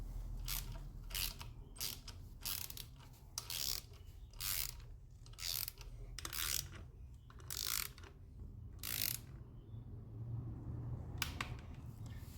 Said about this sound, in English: I've got the null bar, my torque wrench set to 10 Newton meters.